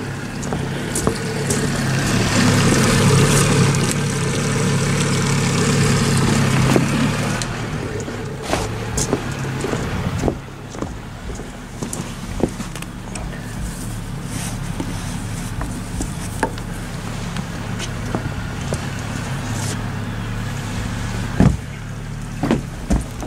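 A boat engine runs steadily and loudly for several seconds, then drops to a lower, rumbling idle with scattered knocks and clatter.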